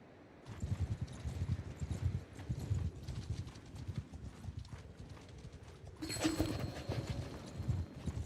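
Horse hooves clip-clop steadily in a medieval fantasy video game, a close rhythmic run of hoofbeats with a brief brighter burst of game sound about two-thirds through.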